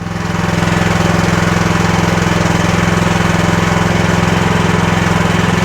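A mini excavator's engine runs steadily at idle, a loud, continuous low mechanical drone with a constant throb and no breaks, with no one speaking over it.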